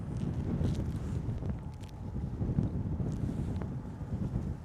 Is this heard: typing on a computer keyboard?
no